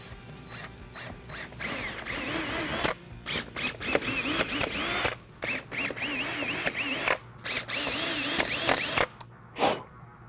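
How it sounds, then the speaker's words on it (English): A power drill with a 13/64 bit whirs in repeated bursts while drilling four holes to mount fog lights on a 2016-2020 Toyota Tacoma, spinning up and stopping several times with short pauses, close and fairly loud. "get your drill with a 13/64 drill bit, and we're going to punch 4 holes in"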